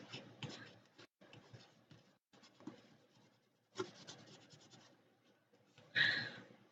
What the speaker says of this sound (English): I am going to go ahead and use this to kind of burnish that sticker down.